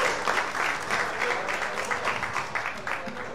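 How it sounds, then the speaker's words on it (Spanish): Applause from a small audience at a talk held in a bar, many hands clapping with uneven, lively rhythm at moderate loudness, some voices mixed in. "Aplaudan, aplaudan."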